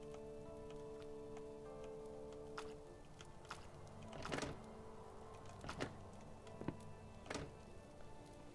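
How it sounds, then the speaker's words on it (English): Fiery rain falling in the video game Starbound: a steady crackling, rain-like patter with several louder bursting impacts over a low background tone, no voices. "And it's like raining fire right now."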